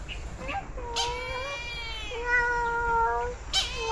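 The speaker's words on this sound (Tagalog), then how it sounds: "there's a cat ah" A cat at a zoo in Pilillo, Rizal gives several drawn-out, wavering meows close by, with faint background noise between calls.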